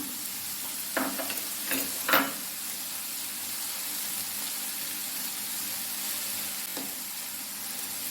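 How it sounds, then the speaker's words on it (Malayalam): Noodles and paneer stir-fried in a pan, a soft steady sizzle with a few sharp scraping stirs near the start and another later, fairly quiet and with no talking. "ഇനി നമുക്ക് നൂഡിൽസ് ഇട്ട് കൊടുക്കാം അതിൻ്റെ കൂടെ തന്നെ പനീർ ഇട്ട് കൊടുക്കാം"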